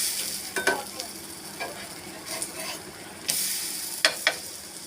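Veg bread omelette made with besan batter frying in a pan over low gas: a steady soft sizzle with a few light scraping stirs and brief clicks, close and moderately quiet, no voices.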